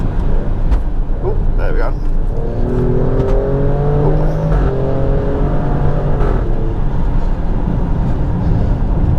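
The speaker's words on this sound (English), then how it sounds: "The car's making all sorts of farting noises." An Alfa Romeo Stelvio Quadrifoglio SUV engine revs hard under acceleration, with crackling, popping exhaust bursts over steady road roar while a person speaks briefly.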